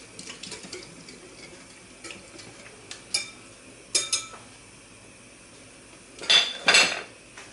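Pot and utensils clink and scrape as mixed pudding is poured onto juice while making an Etna cake with pudding and whipped cream; several sharp metallic knocks and clatters, the loudest pair near the end, over a quiet kitchen background.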